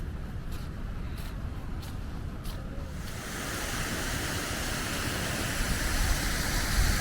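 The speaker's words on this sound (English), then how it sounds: "Great to just stand here and feel the power of the water." A stream rushing during heavy rain, a dense, steady roar of water filling the space and swelling slightly louder partway through, with no voices.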